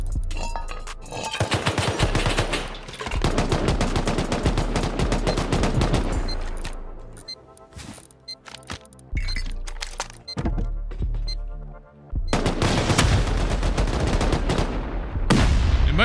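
Rapid gunfire in a base-raiding survival video game, with dense bursts of shots aimed at defensive turrets, loud and close, broken by short pauses and resuming in heavy volleys.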